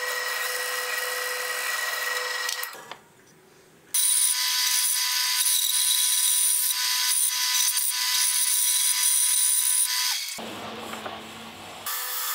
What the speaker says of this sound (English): that is where we need to drill the hole